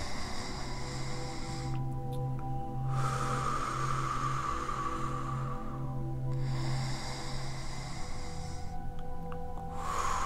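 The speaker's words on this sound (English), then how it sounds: "let's go ahead and take some deep breaths and release that." Slow deep breathing rises and falls in long drawn-out cycles, soft and close, over a steady sustained tonal background.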